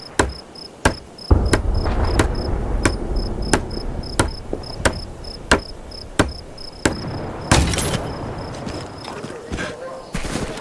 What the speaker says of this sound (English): Use the hammer in your loadout to finish constructing it.